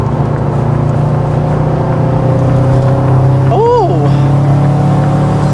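A Subaru WRX STI engine holds a steady, loud drone in third gear while cornering, with a brief rising-and-falling tonal sweep partway through and a person speaking briefly over it.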